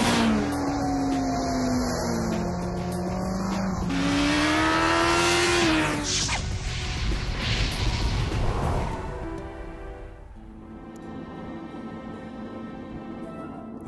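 An MV Agusta naked motorcycle engine revs hard under a twisted throttle, rising in pitch through sharp upshifts, then backing off and settling to a lower idle-like burble, loud and close.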